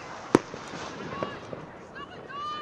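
A loud, sharp firework bang close by at a university football match, followed by fainter crackles and pops fading out, with talk in the background.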